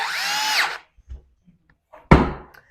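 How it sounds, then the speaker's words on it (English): A power drill with a pilot bit whines briefly at high speed while making a kitchen wine rack, then stops; after a few faint knocks, a short sharp burst of drilling follows. "So then I get my drill out, get a pilot drill in it"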